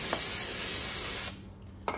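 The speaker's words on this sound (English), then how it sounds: "So I'm going to spray this down." Brake cleaner is sprayed onto a golf cart transaxle part, a Yamaha Drive YDRE unit, as a close, loud, steady aerosol hiss lasting over a second, then it cuts off and a brief second spurt follows.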